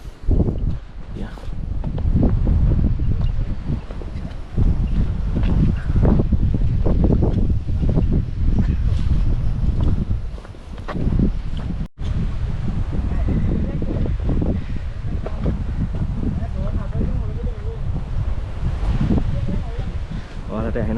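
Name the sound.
strong wind on the Knuckles mountain peaks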